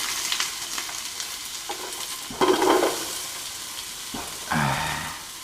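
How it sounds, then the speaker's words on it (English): Onions added to a pot on medium heat for a Caribbean hambone stew, a steady sizzle rising in bursts as they go in and are stirred, close and fairly loud. "we're going to add these onions in"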